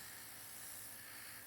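Steady, even hiss of an airbrush spraying nail color during a nail art workshop, close and continuous with no talk over it.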